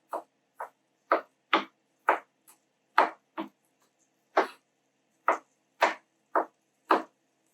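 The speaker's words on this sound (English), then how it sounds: "Roughly chopping the garlic up." Knife roughly chopping smashed garlic on a cutting board: about fourteen crisp, separate chops in an uneven rhythm with short pauses, close and clear with no talking.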